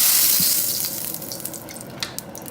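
Oil poured into a hot wok for chicken fried rice, a brief bright hiss at the start settling into faint crackling sizzle pops, close and without talk.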